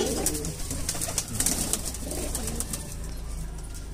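Pigeons from a Gwalior loft coo steadily and softly, a continuous low murmuring with soft wingy rustles, several birds close by and no voices.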